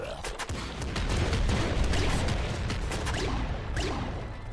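A Gatling bazooka in the video game Nuclear Throne fires a rapid stream of sharp blasts and pops, dense and loud, with explosions layered over a continuous low rumble.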